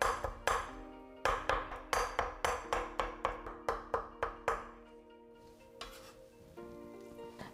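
Shrimp meat being minced with the back of a kitchen knife on a cutting board: a fast, steady run of close, sharp thuds with faint metallic pings that thins out and slows toward the end.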